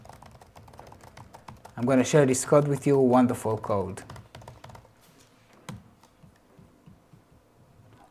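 Light typing on a computer keyboard clicks in scattered soft taps before and after someone speaks briefly over it.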